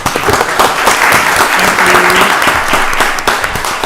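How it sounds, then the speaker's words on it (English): Loud, sustained applause fills a county board of commissioners meeting room, a close, dense clatter of many hands, with a brief voice briefly audible in the middle. "Let's give them a round of applause"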